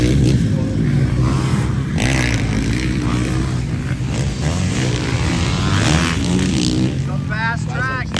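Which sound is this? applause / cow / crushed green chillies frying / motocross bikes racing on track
motocross bikes racing on track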